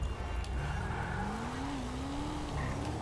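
A steady BMW engine drone with a rising whine as it accelerates in GTA 5, continuous and moderately loud.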